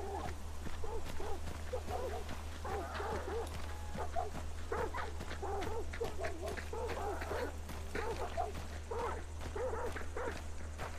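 Dogs in the shooter game Hunt 1896 bark again and again in short, uneven bursts, fairly faint and distant, over a low steady hum.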